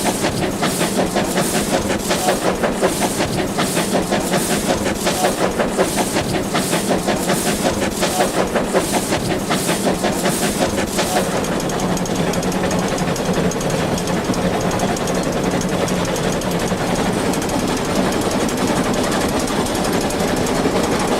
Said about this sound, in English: the driver guides the train skillfully during the final slog up to Arthur's